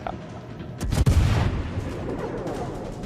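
The German cruiser Yorck fires its naval guns in World of Warships, one heavy booming salvo that hits hard and then rolls off into a rumbling tail, with no talking.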